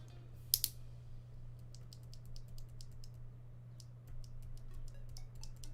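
Close-up clacking of keys on a budget mechanical keyboard, with a switch partly dampened by a piece of paper towel: a couple of sharp clicks, then a steady run of light typing over a low hum.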